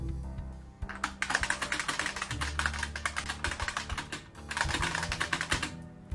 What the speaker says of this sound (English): This isn't a membrane keyboard or a mechanical keyboard. This is a buckling spring keyboard.